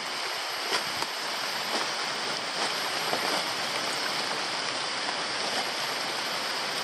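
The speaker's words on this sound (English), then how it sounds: "Well, the rain hasn't abated at all." Heavy rain pours steadily in a jungle along an abandoned railway line, a dense, continuous hiss of water hitting leaves and ground with no pauses and no voices.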